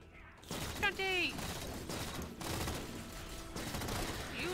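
Rapid bursts of gunfire in the video game Halo 4 crackle through a busy, dense mix of game effects, with a voice talking over the shooting and rising tones sweeping by.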